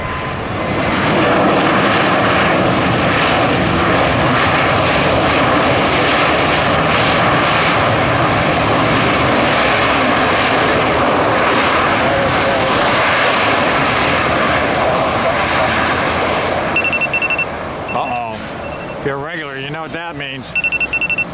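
Airplane engines roar loudly and steadily during a go-around at Tampa Airport on a foggy, sunny rush-hour morning, the broadband rumble sustained throughout before thinning near the end, where a brief beeping tone and wavering noise appear.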